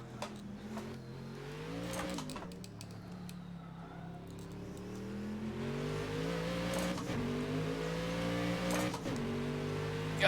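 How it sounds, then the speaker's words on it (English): A race car engine in the Assetto Corsa video game revs and climbs through gears, its harmonic whine rising and dropping with shifts, steady and close throughout. "This car sounds pretty amazing"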